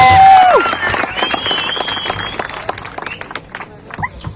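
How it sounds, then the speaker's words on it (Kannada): An audience at a Karnataka village administrative officers' state sports meet in Shivamogga claps to welcome the state president onto the stage, a burst of applause that fades, with a rising tone and voices over it. "ನಿಮ್ಮೆಲ್ಲರ ಚಪ್ಪಾಳೆ ಮೂಲಕ ಅವರನ್ನ ವೇದಿಕೆಗೆ"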